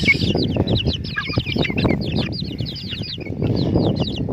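Free-range native chickens and large chicks clucking and peeping together, a busy close chorus of overlapping calls.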